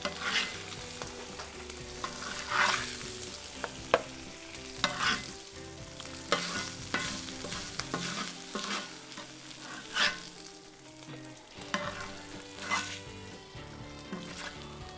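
Beef short rib for bulgogi sliders sizzles and fries in a pan, a steady bright crackle with repeated stirring and scraping bursts throughout, close and fairly loud, no talking.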